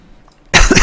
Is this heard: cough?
yes